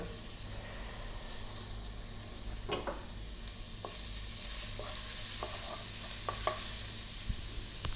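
Ginger sautés in cooking oil in a pan, a steady soft sizzle and hiss with a few light clicks of a utensil, close and quiet with no voices.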